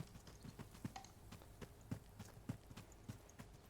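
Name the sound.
horse hooves clip-clopping in a video game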